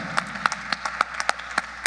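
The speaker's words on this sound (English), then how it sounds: "can we give a round of applause to these young guys right here?" An audience at a panel discussion applauds, a short burst of clear, regularly spaced claps at moderate distance, fairly quiet and without talking over it.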